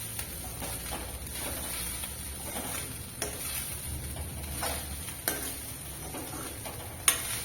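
A spoon scraping and stirring blue butterfly pea flower pulao in a pan, with a soft steady sizzle underneath and a few sharp clinks of utensil against metal spaced through the stirring.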